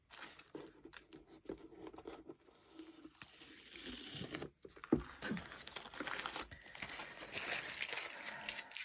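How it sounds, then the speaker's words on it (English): Masking tape being peeled away from the paper edges of a watercolour painting, a run of close, dry crackling and tearing rips in short bursts with brief pauses, fairly quiet and with no voices. "Always peel the tape away from you and away from the painting"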